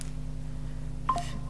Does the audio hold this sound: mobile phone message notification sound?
yes